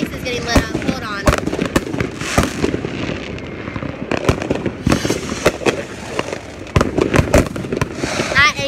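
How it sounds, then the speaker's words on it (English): Fourth of July fireworks launching close by in a launch zone, with sharp loud bangs and crackling bursts repeating irregularly, plus rustling and faint voices in between. "I'm sitting in the middle of firework launching zones. Oh my goodness. And it is just so loud."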